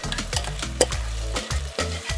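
Onion and tomato paste cooking in a pan on a gas stove, giving a loud, close, continuous sizzle broken by repeated stirring and scraping strokes.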